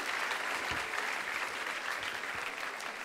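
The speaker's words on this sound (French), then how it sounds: "On l'applaudit." An audience claps together in a steady, even wash of applause that holds for several seconds, fairly close and without talk.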